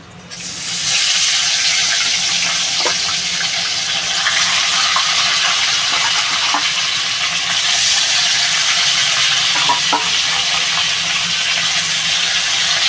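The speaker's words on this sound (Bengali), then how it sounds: "এবার পরের মাছগুলো দিয়ে দেবো আমি" Tilapia fish frying in hot oil in a kadai, a loud, continuous, close sizzle that holds steady throughout with no talking.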